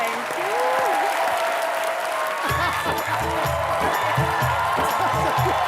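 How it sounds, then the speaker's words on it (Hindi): Studio audience at a Hindi TV comedy show applauds loudly for Sonakshi, a sustained wash of clapping and cheering with a host's voice and background music running over it. "आइए जोरदार तालियां सोनाक्षी के लिए प्लीज"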